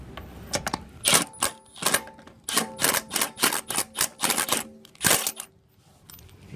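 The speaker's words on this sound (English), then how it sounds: "Hear that ratcheting mechanism? That's not actually rattling hard. I'm hardly touching the trigger." A Milwaukee M12 half-inch drive impact wrench works on wheel nuts, giving bursts of rapid, close metallic rattling hammer blows with short pauses in between.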